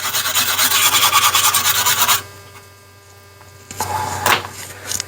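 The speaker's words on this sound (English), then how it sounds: "I just like the Dremel tool, does a better job" A Dremel rotary tool grinds and scrapes at a cracked part with a rapid pulsing rasp for about two seconds, stops, then returns briefly after a quiet stretch with a steady hum underneath.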